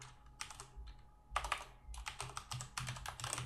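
Computer keyboard clicks out code in rapid, uneven bursts of keystrokes with short pauses between them, close and fairly quiet, no voices.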